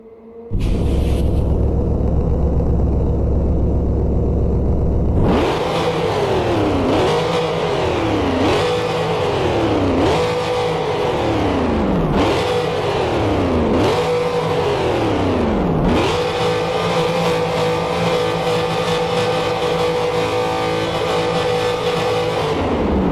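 A simulated naturally aspirated 3.0L V6 engine of a 1992 Honda NSX in a Roblox racing game starts, then revs repeatedly in rising and falling sweeps before holding a high, steady whine; loud and close.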